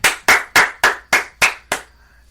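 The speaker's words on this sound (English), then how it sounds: "Let's everybody give a round of applause to Coach Matt Nagy." A single person claps seven times at an even, brisk pace, close and crisp, and the last clap is slightly softer. No one speaks during the claps.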